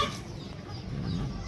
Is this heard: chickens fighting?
yes